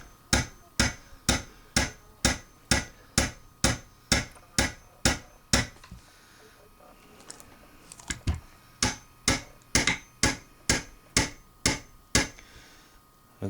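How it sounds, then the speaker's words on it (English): A gunsmithing hammer taps a pin on a Remington 742 Woodmaster rifle in sharp, evenly spaced strikes, two steady runs of about a dozen knocks each split by a short pause, close and clear with no talking. "A good gunsmithing hammer would come in handy for this, because you don't want to mar up the finish"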